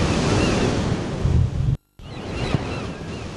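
Waves from the sea break and wash against a stone pier, a loud steady surf rush mixed with wind noise, interrupted by a short dropout.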